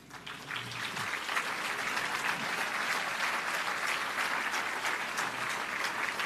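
Sustained round of applause from an audience at a city government State of the City address in Fresno, steady dense clapping throughout at moderate distance with no voices over it.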